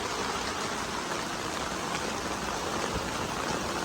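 Heavy rain pounding on a poly tunnel in a home garden, a dense, even hiss that holds steady throughout and fills the space from close by.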